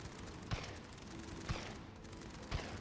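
Shotgun blasts in the mobile shooting game Sniper 3D Assassin: three evenly spaced, sharp reports about a second apart over a steady, noisy game background.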